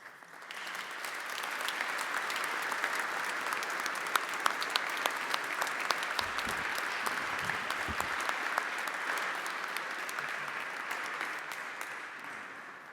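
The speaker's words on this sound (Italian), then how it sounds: "bello, caldo applauso." Warm applause fills a church at a Chrism Mass, a large congregation clapping steadily for about twelve seconds, rising quickly and fading at the end.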